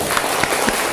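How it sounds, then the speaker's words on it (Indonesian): Students in a classroom applaud together, a loud, close burst of mixed clapping filling the whole moment without speech. "Kita beri tepuk tangan untuk kita semua."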